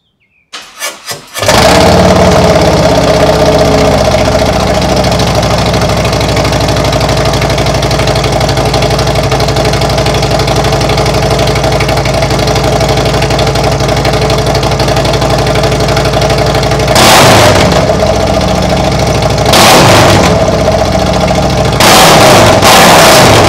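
A motorcycle engine fitted with Tab Performance 50 Cal Z-rings cranks and catches after a brief start, then runs at a steady, loud, close idle for about twenty seconds, with a few short revs near the end.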